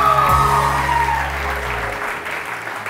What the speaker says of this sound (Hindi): बहुओं के लिए ज़रा बहुत सारी तालियां बजा दीजिएगा